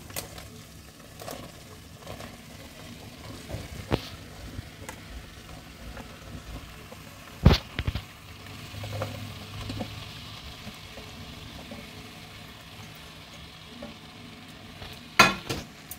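Chunks of bottle gourd stirred and fried in oil with a cooked-down spice paste for a Bengali lau chingri dish, giving a low, steady sizzle with occasional sharp scrapes and clinks from the stirring spoon.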